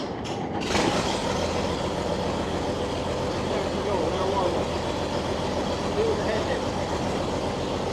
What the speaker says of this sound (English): Yeah, well, I love that engine.